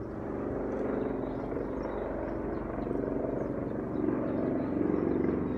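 A helicopter drones steadily over the Izu Islands south of Tokyo, with a rapid rotor chop, moderately close, its rumble swelling slightly louder toward the end.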